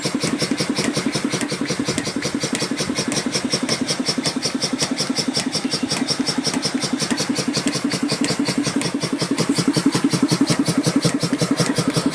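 A small engine runs steadily with a fast, even rhythmic chugging and its wheel spinning, close and consistent throughout without talk.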